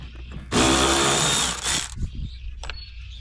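A cordless power driver spins out T25 Torx screws from a Silverado/Sierra pickup headlight, one loud whirring burst of about a second and a half close by, followed by quieter clicks and handling noises.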